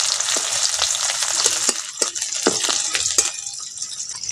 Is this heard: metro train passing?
no